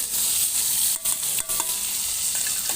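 Five-spice, chopped onion and garlic frying in hot oil, a steady close sizzle broken by a couple of sharp stirring clanks against the pan, with no talk.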